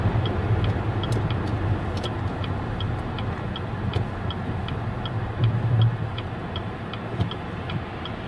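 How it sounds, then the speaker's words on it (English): A truck passes a car pulled over on a country road, a low steady rumble heard from inside the stopped vehicle, moderately quiet, with a regular clicking ticking over it throughout. "Pull over so this truck can pass me."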